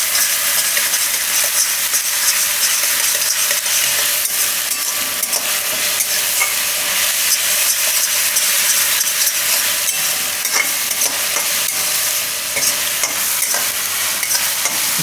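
Mixed dal vadi curry sizzles and fries steadily in a pan while being stirred, a loud continuous broadband hiss with faint scraping throughout and no talking.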